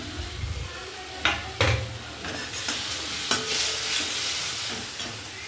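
Poppy seed paste being stirred and fried in a pan for a hilsa fish curry, a continuous close sizzle broken by several scraping strokes of the spoon against the pan.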